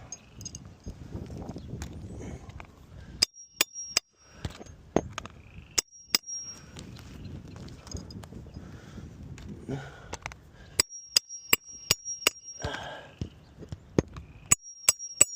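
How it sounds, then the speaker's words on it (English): Sharp metallic hammer strikes driving nails into roof shingles ring out in irregular bursts, some in quick runs of several blows, close up over a low background rumble. "We're putting a nail back in. Hammer that home."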